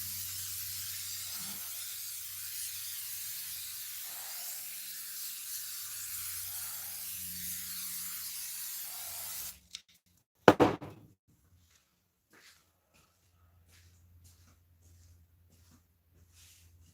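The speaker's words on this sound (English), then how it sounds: "I'm going to hit that with spray adhesive and kind of lock it in" A can of spray adhesive hisses in a steady, close spray for several seconds before stopping, followed by a sharp knock and then near silence.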